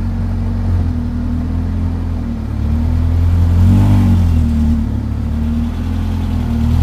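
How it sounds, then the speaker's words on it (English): Interior of a 1984 Hyundai Pony 2 while driving, with a loud steady low engine drone that swells briefly as it accelerates. A faint rattle from the back window may sit in the noise. "see the back window is a little rattling."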